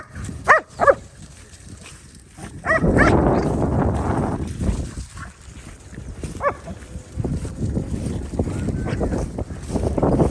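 A few sharp dog barks near the start, then another around the middle, over outdoor street noise and rumbling background sound on Main Street in Williamsburg, Ohio.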